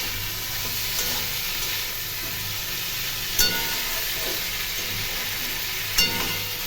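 Vegetables sizzle and fry in a kadai wolk, which is stirred and mixed, giving a steady soft hiss with two brief sharp scrapes of the spatula against the pan.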